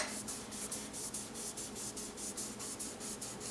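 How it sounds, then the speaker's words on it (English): Cloth rubbing a color finish onto an apple wood lidded pot, a steady soft scrubbing with rhythmic back-and-forth strokes, close and fairly quiet, with no voices. "Just going to keep on rubbing more and more of this on."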